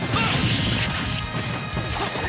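In a Super Smash Bros match, Wario's bike slams into an opponent for a kill, a loud crashing smash with a heavy whack and rumbling impact that fills the short moment.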